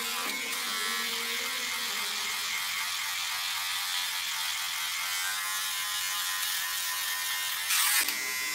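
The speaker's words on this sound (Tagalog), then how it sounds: "At yan yung electric shaver." A Shengfa electric shaver runs steadily with a bright, buzzing motor whir that holds constant throughout, briefly intensifying near the end.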